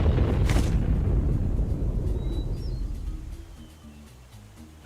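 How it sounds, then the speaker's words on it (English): A loud, rumbling explosion roars and slowly fades, leaving a low hum with a few faint electronic tones, game-like in character. "That was quite the explosion."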